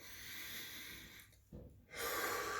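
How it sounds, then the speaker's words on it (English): Deep diaphragmatic breathing during a posture exercise: a long, airy breath, a short pause and a sharper rush of air, close and fairly soft with no talking. "breathe deep in through your nose, out through your mouth."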